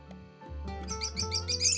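Swallows chirp together in a cheerful chorus, building from a few scattered high tweets to a dense, bright twitter over a sustained musical bed, fairly loud and close.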